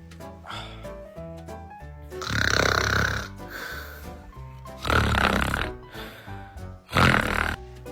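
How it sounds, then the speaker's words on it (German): A woman snores in loud, rasping bursts, three heavy snorting breaths separated by quieter stretches, with music playing underneath. "Wenn deine Freundin neben dir schnarcht."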